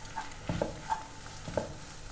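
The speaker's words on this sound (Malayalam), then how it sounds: "ഞാൻ നന്നായി ഒന്ന് മിക്സ് ചെയ്ത് കൊടുക്കാം. ഹൈ ഫ്ലെയിമിൽ ഇട്ടിട്ട് തന്നെയാണ് നമ്മളിത് മിക്സ് ചെയ്യുന്നത്." Egg curry mixture stirred in a pan over a high flame: a few soft scraping strokes and light clanks of the spoon against the pan, quiet and close, with a faint sizzle underneath.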